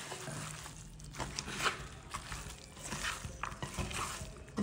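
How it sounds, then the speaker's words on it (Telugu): Chicken pieces and spices stirred together in a clay pot, with soft repeated scraping and wet shuffling strokes close up, irregular and fairly quiet, with no talking. "ఇవన్నీ మనం వేసుకున్న తర్వాత మనం బాగా కలుపుకోవాలన్నమాట"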